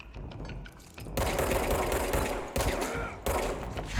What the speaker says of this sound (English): There's somebody shooting grenades